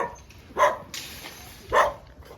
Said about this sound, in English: Always the dogs.